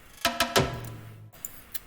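Layered percussion toms with a metallic edge from an FL Studio beat, three sharp ringing hits with a low tonal tail, followed by two fainter clicks, close and dry with no voices.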